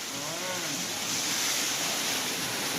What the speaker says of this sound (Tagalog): This is the waterfall. Waterfall. It's Maria Cristina Falls.